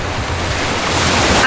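Steady broadband wash of ocean surf rolling in at a beach near high tide, continuous and fairly loud, with wind buffeting the microphone throughout.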